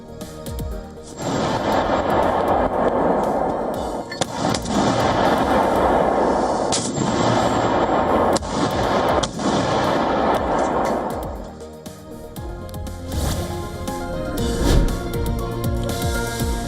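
Heavy artillery and gunfire from fighting at the Afghanistan-Pakistan border, a dense, continuous barrage of booms and cracks with sharp reports standing out near 4, 7 and 8.5 seconds, loud and sustained throughout.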